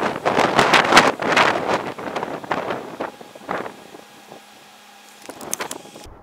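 Motorcycle riding, close buffeting wind noise in irregular gusts that is loud at first, then fades to quiet with a few faint later bursts.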